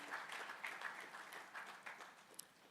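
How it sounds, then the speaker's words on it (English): Applause from an audience at a real estate summit, a faint, steady patter of clapping with a few sharper individual claps, fairly distant throughout. "Please, a round of applause for Mr. Ekundayo Onojobi."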